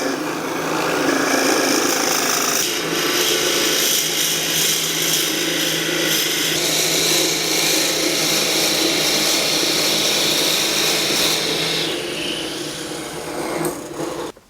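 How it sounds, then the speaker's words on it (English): A drill bores into wood, deepening a hole for the hollow stem of a handmade multi-bit screwdriver, making a steady loud grinding whir that runs unbroken for about twelve seconds before tapering off. "So now I'm going to drill a hole, or deepen the hole, and that's for the hollow stem."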